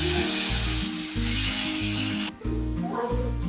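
Tomatoes hit hot oil in a wok seasoned with Bengali five-spice for a tomato chutney, giving a loud, close, continuous sizzle. The frying quiets briefly, then carries on with some low knocks and clatter underneath.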